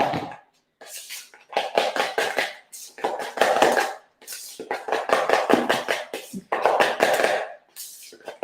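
A spoon scrapes and knocks around a bowl while a dollop is mixed into no-bake cheesecake filling, in irregular bursts of clinking and tapping separated by short pauses.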